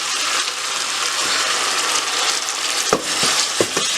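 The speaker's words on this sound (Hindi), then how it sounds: "टमाटर के साथ इसको दोबारा भून लीजिए और इतना भून लीजिए, इसको फ्राई करना है" Onions and tomatoes fry in a pan with a loud, continuous sizzle, with a few sharp scraping and stirring knocks near the end.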